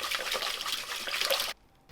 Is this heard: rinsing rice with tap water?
yes